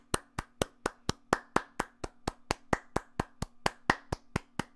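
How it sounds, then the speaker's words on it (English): A single person claps steadily at a show, about twenty sharp, evenly spaced claps over five seconds, close and alone with a faint steady hum underneath. "let's do a little bit of a round of applause"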